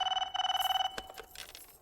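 A telephone bell rings in quick trilling bursts, loud and close, two rapid rings followed by softer clatter as the ring cuts off, with no talk.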